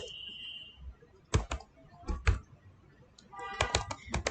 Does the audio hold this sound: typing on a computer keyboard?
yes